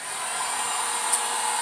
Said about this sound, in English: I'm going to hit this with the heat gun real quick